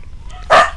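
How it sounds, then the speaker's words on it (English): Dogs bark when someone arrives at the house: one short, loud bark bursts out close by against a quiet background. "somebody's here, so of course you hear all the dogs going crazy."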